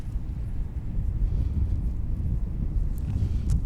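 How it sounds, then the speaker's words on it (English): Low, gusty wind buffeting the microphone, a continuous rumbling rush with a faint click or two near the end. "It's just windy outside today"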